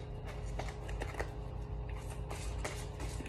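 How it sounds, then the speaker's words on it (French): Oracle cards are shuffled by hand at close range before one is drawn, a steady soft riffling and rustling with quick papery flicks throughout, with no talk. "Je vais vous tirer une petite carte de l'oracle de ma maman."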